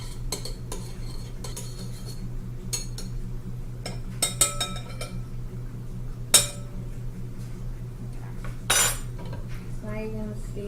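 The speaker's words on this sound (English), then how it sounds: "Stir it until it's all liquefied." A utensil scrapes and clinks against a bowl while coconut oil is stirred until it melts for homemade lavender bath salts. Brief metallic taps and clatters sound close up and scattered over a steady low room hum, with no talk.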